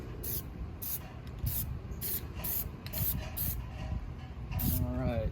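Plasti Dip sprayed from an aerosol can onto the rear emblem of a 2022 Kia Telluride, heard as repeated short hissing bursts close by, with faint rustling and a brief voice near the end.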